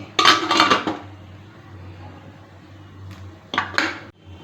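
Metal clatter as idli steamer pot parts are stacked on a stove, two sharp clanking bursts separated by a quiet pause, close and loud.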